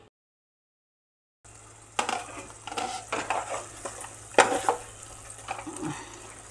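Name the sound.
palak paneer tomato masala simmering and stirred in pan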